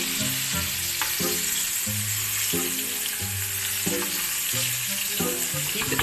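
Pork chops fry in a pan on a gas flame while being basted, a loud, constant close sizzle and hiss with faint spattering, under a soft tonal musical background and no talking.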